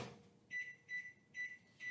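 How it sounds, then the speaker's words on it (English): A microwave oven melting butter gives four short, evenly spaced, faint electronic beeps in an otherwise quiet room. "You want to make sure with butter that when you're melting it in the microwave, you don't do it too fast."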